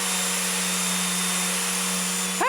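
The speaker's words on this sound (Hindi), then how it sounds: "ये आरी अभी रखो और फेंक दो इसे" A cartoon saw in a Boonie Bears animation buzzes with a steady, loud motorized whine, held constant before a brief rising chirp at the end, with no talking.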